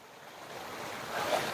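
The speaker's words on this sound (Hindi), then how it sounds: "कल कल की आवाज तो आ रही है यार।" Water babbles in a jungle waterfall stream as a steady, broad rushing wash that swells slightly toward the end, with no voices over it.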